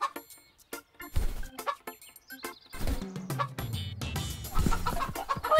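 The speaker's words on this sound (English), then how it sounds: "Chickens, time to wake up." Cartoon chickens clucking and squawking in a lively chorus, near and fairly loud, with rising, overlapping calls and a busier flock in the second half, no speech.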